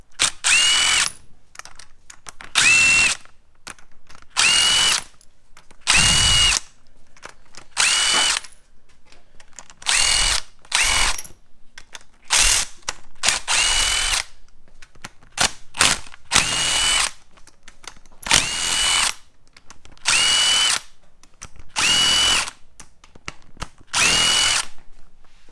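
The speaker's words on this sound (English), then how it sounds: "Yay, power tools." Power tool loosening bolts on a VR6 engine being pulled from a Jetta, heard as repeated short loud bursts of whirring and ratcheting separated by brief pauses, close up with no talking.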